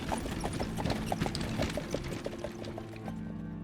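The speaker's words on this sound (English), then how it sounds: "all white horses and carriages" White horses pulling carriages in a procession make a brisk, regular clip-clop of hooves, moderately near, the steady beat fading out toward the end over a low background hum.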